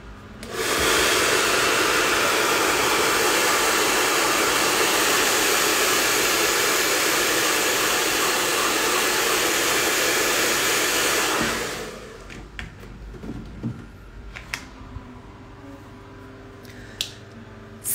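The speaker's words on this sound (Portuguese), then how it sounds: "Deixa eu usar o secador aqui, gente." A hair dryer blows loud and steady for about twelve seconds while drying an apple-themed craft piece, then switches off, leaving faint clicks and small handling noises.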